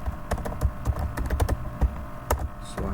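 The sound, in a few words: typing on computer keyboard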